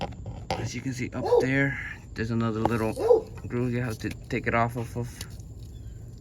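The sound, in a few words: dog barking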